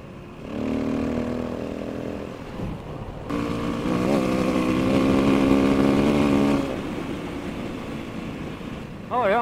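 A motorcycle ridden at night hums along with a steady engine drone that rises in pitch as it accelerates, then settles, with wind noise throughout.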